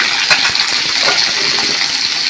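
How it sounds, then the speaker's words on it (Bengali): Potatoes fry in hot oil in a pan for a fish head curry, making a loud, continuous sizzle with crackles and pops scattered through it. "আলুগুলো একটু ভেজে নিতেছি।"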